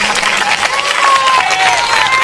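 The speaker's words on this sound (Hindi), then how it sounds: "आप तमाम साथियों से रिक्वेस्ट है, एक जबरदस्त ताली हो जाए" A large audience at a political speech claps and cheers loudly. The applause is dense and sustained, filling the space with a steady roar of hands and crowd noise.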